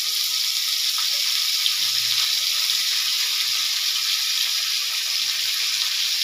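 Cauliflower pieces coated in salt and turmeric frying in oil with white cumin, a steady, close, even sizzle that continues unbroken with no talking.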